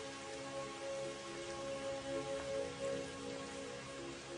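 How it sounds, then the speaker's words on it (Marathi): Steady rain falls on a hard surface, a constant close patter without pauses, with no voices present. "आला बघ तुझा लाडका पाऊस."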